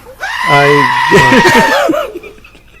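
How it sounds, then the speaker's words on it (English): A goat lets out a loud, wavering scream that stretches on for over a second before breaking into choppy bleats, with voices chuckling and talking over it. "Good old goats. Screaming goats."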